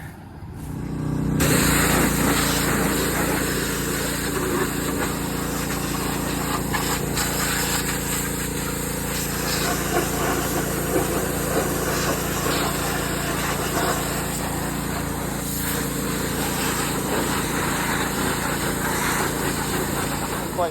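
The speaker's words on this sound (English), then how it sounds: "Get done pressure washing" Small petrol engine of a pressure washer runs steadily and loudly, a constant buzzing drone after a quick start, with faint rattles and no talk.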